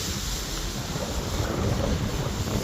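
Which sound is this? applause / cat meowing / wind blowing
wind blowing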